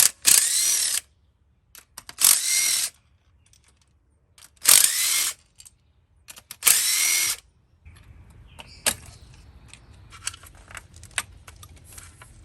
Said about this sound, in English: take the 10 millimeter bolts out